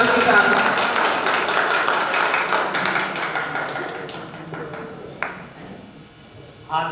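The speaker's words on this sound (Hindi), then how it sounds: "आप लोग जोरदार तालियों से इस्तकबाल कीजिए फारूकी साहब का।" Audience applause welcoming a guest to the stage at a poetry event, a dense patter of clapping that gradually thins out, with voices and a sharp tap near the end.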